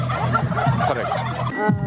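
Turkeys on a farm gobble together in a loud, dense, overlapping chorus that continues without pause, with no voices.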